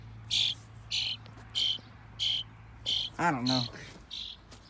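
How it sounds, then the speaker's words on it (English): A bird chirps in short, regular bursts about every half second inside the Railroad Museum of Pennsylvania, with a person briefly speaking partway through. "Hear that? There's a bird living in there."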